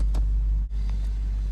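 A BMW engine, left unused for 8 years, idles with a steady low rumble, close and continuous, with a brief dip partway through.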